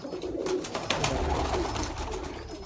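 Sialkoti pigeons coo continuously at close range, a steady low rolling murmur with faint overlapping calls and a busy loft-like background, no speech over it.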